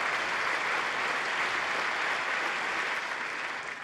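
Sustained applause from members of the US Congress in a large chamber, a dense, even roar of many hands clapping with no distinct individual claps, holding steady and fading slightly at the end.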